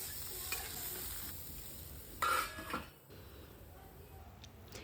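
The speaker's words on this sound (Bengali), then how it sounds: "হলুদ গুঁড়ো দিয়ে হালকা করে নেড়ে নেব।" Pumpkin and taro with turmeric powder being stirred in a pan: a quiet, steady sizzle with a few scraping strokes of a spatula and brief clatters in the middle.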